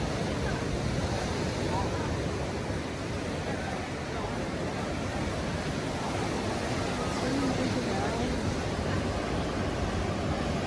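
Steady roar of surf washing onto Ngliyep Beach in South Malang, broad and continuous with a breezy, windy hiss throughout and no clear pauses.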